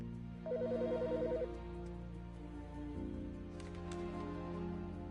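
An in-game phone rings in the video game Autopsy Simulator: a fast warbling electronic trill for about a second, over a quiet low background hum with faint clatter afterward.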